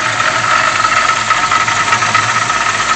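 A 1969 Ford Mustang coupe with a rebuilt engine and an Edelbrock four-barrel carburetor runs at a steady idle up close, a loud, even rumble with no talking.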